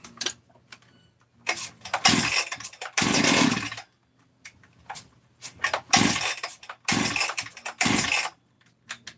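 A model 394 chainsaw engine, set to run rich, roars in loud repeated bursts as it starts, each rev separated by short quiet gaps, close by with no talking.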